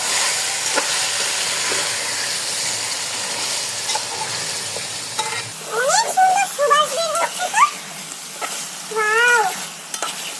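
Meat for a chicken biryani sizzling and frying in a pan while being stirred, a steady hiss underneath with someone talking over it in the second half.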